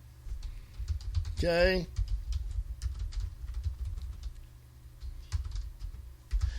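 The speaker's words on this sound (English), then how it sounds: "I'm just typing a message to someone" A computer keyboard clatters in steady bursts of key taps during a podcast recording, with a brief spoken word and a short tonal chirp over the typing.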